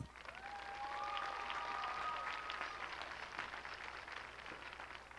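A crowd at a high school graduation applauds the JROTC color guard with sustained clapping that holds steady throughout and then tapers slightly, and a faint tonal whistle-like sound rises over it early on.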